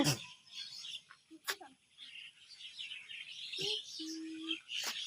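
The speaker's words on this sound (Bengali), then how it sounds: "দেখো পাখিটা আবার শুনতে পারবে" Birds call in a village, with several short chirps and a steady cooing note rising over a quiet rural background, while someone talks intermittently.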